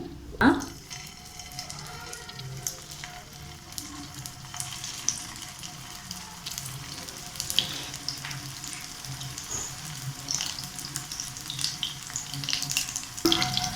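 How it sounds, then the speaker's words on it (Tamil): Small squares of potato snack deep-fry in hot oil, giving a steady, close crackling sizzle with scattered pops and a few louder knocks of a utensil at the start and end. "இப்போ எண்ணெய் காஞ்சதும் நம்ம போட்டு பொரிச்சு எடுத்துருவோம்."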